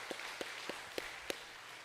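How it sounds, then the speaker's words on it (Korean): A few people in a church congregation clap during a family worship service. About five slow, separate claps sound faint and sparse over a quiet room. "구원을 주신 우리 하나님께 감사와 영광의 박수를 올려드리겠습니다."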